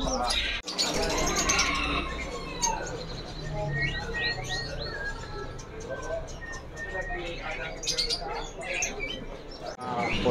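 Ciwa birds at a bird market kiosk, chirping in quick high tweets and short trills scattered throughout, with someone talking over them and busy market noise behind.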